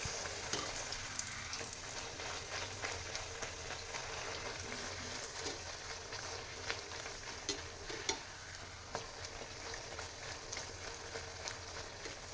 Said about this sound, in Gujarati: બદામી કલર ના થાય ત્યાં સુધી તળી લેશું.